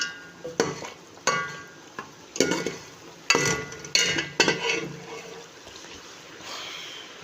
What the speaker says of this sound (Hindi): अब हम इसके करेंगे 10 से 15 मिनट अच्छी तरीके से भुनाई।